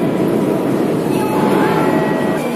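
A Moscow metro train at Novoslobodskaya station rumbles loud and close, a steady heavy roar with faint wheel squeal on top, continuous throughout.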